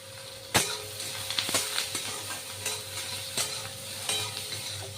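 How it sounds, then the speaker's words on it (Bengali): Thin strips of eggplant, lightly salted, frying in oil in a pan, a soft steady sizzle with sharp stirring clatters and scrapes recurring every second or so, close and alone without talk. "এবার আমি ভেজে দেব।"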